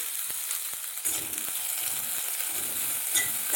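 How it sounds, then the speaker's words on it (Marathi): Chopped cabbage, capsicum, carrot and onion hiss loudly in a hot frying pan for a hot and sour soup, a dense continuous sizzle broken by a few sharp taps of stirring, with no talking. "आता आपण यामध्ये जे आपण भाज्या कट करून घेतलेला आहे ते टाकणार आहोत।"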